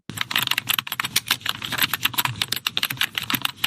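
Rapid computer keyboard typing, a dense run of crisp plastic key clicks filling the whole stretch at steady close range with no voices.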